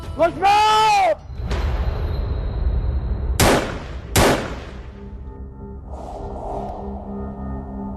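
Two sharp gunshots are fired at a house, cracking loud and close a moment apart amid a tense indoor scene with other background sounds.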